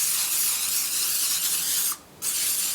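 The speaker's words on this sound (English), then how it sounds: "just spray the bottom of those" Cooking spray hisses onto the bottoms of dishes in a steady, close, loud burst, with a brief pause before a second spray.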